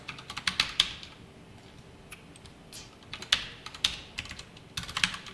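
Keys clacking on a computer keyboard while code is entered, irregular bursts of close, crisp taps with brief pauses between runs.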